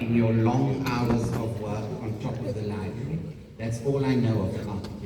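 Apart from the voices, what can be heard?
No everyday noise stands out behind the speech.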